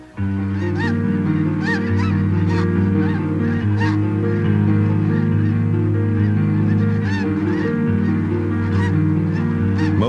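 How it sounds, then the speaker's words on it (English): A dense, loud chorus of snow geese honking continuously at a salt marsh, many overlapping calls from a large flock, with no pauses. "Snow geese arrive for the winter."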